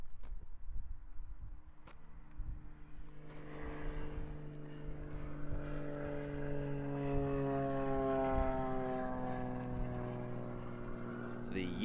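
An Extra 330SC aerobatic propeller plane flying at an aerobatics championship, its engine drone rising and bending in pitch as it passes, fairly distant and steady, with a commentator talking over it.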